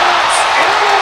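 Arena crowd at a college basketball game between Eastern Illinois and Illinois, a loud dense roar of cheering and whooping that fills the whole moment, with a commentator talking over it.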